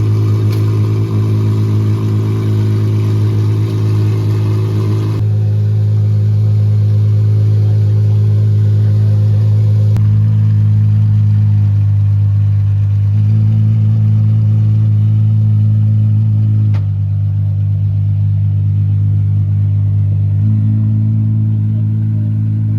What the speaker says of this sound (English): It's actually crazy how loud this car is. This could honestly be the loudest street legal car I've ever heard from factory